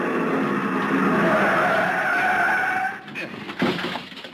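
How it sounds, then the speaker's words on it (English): Car tyres skid as brakes are jammed on and the car slides to a stop against a curb, a long loud screech that cuts off, followed by a few sharp knocks, done as a radio drama sound effect. "The other driver had jammed on his brakes and finally skidded to a stop against the curb."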